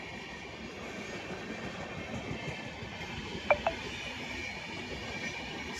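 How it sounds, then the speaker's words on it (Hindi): Shatabdi Express train passing near Tilak Bridge in Delhi, heard as a steady, broad rumble and rail clatter that holds throughout, with two brief high squeals in the middle. "सामने से जा रही है शताब्दी एक्सप्रेस"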